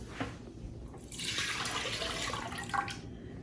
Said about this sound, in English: So we're going to start by putting, this is half and half. This is 3 cups of half and half in this pan.